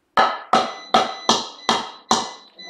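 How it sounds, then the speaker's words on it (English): A hammer drives a tiny nail into a loose, free-floating piece of wood: six sharp, evenly spaced strikes, loud and close, each ringing briefly before the next. "if you have a free floating piece of wood, hammer, and a tiny little nail, and I want to hammer that nail in"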